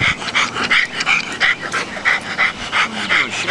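A dog pants hard and steadily, with whimpering and yipping woven into the rapid breaths, loud and close throughout.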